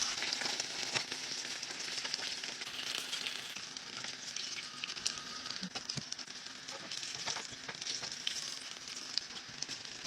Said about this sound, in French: Et on vient les cuire dans le zit, dans l'huile